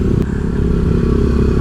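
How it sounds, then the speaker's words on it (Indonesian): Loud, rough rattling exhaust of a motorcycle close by on a road in Gunung Kidul, Indonesia, a constant throaty idle with no voices. "Knalpot pada berisik."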